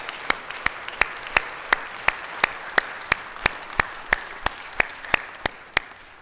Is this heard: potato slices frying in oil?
no